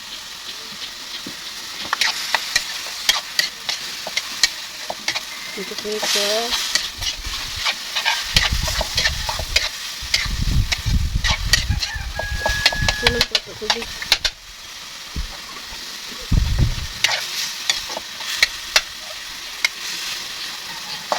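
Banana blossom is stir-fried in a pan over a strong gas flame. A continuous sizzle and hiss runs under repeated scraping and stirring strokes, loud and close, while a person talks intermittently.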